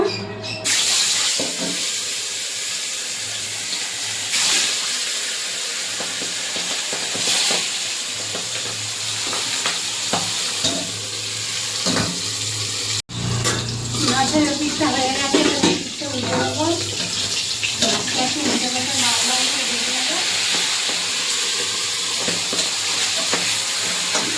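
Rohu fish pieces dropped into hot mustard oil, a loud, steady sizzle and crackle that intensifies sharply halfway through as the fish hits the oil, with a voice speaking over the frying.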